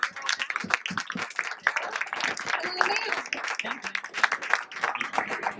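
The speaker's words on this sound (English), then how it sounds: "I wanted to just give one more round of applause for both these students" Scattered applause from an audience for two student presenters at a STEAM presentation, uneven individual claps close by mixed with murmuring voices and a few whoops.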